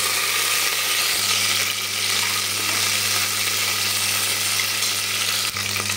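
Bay leaf, cloves and cinnamon frying in oil for chicken biryani, a loud continuous sizzle with a steady low hum underneath and a couple of faint knocks.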